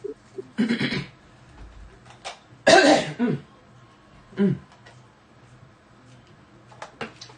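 Several harsh coughs in separate bursts, close and loud, with short quiet gaps between them and faint background noise.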